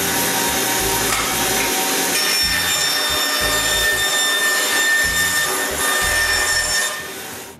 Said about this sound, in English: I cut the excess plywood.